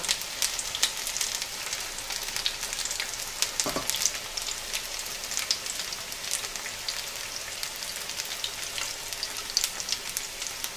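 Onion bhajis fry in hot oil, about a dozen at once, giving a dense, steady sizzle and crackle close up that continues without a break.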